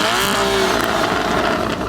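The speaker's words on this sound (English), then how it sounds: "The flat 6, absolutely epic. But, as you can hear, it could sound a lot better." A Porsche Cayman's flat-six engine on its stock exhaust holds a loud, steady drone with a smooth, continuous tone close up, and nobody speaks.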